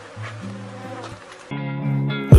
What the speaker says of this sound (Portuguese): Como é pela tarde, vai muitas abelhas campeiras